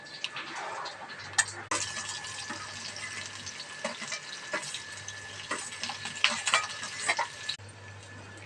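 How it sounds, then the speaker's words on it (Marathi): Mustard seeds and cumin sizzle in hot oil for a tempering, a steady crackling hiss with sharp popping bursts and faint clinks of a pan, fairly quiet, with no talk. "राई जिरे टाकली"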